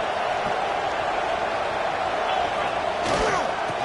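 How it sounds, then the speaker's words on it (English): Stadium crowd roar from a Madden football video game on PS5, as fans rally the defense for a red zone stop; a dense, steady wash of cheering that swells briefly near the end, with no talk over it. "And here comes the noise. This crowd is trying to inspire this defense to make a big red zone stop."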